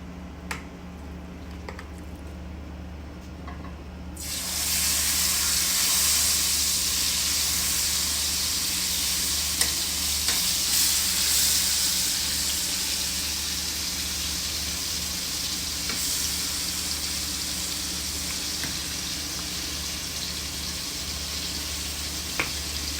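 Steak meat sizzles in a hot frying pan over low flame, a loud, steady hiss that bursts in after a quieter few seconds and continues unbroken, with a faint low hum beneath and occasional small pops.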